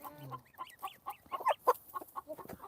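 Backyard chickens cluck and murmur in short, irregular bursts close by while pecking at corn on the cob, with several overlapping calls and no talking.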